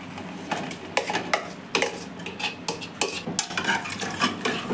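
Mashed potatoes are stirred into curry gravy for aloo matar sabzi in a pressure cooker, with close, rhythmic scraping and clanking of a spoon against the metal pot, irregular and fairly busy, without speech.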